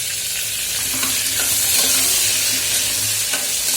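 Cumin, mustard seeds and tomato roast in a pan for dal khichdi, giving a steady close sizzle with scattered stirring scrapes and small crackles throughout, no voices.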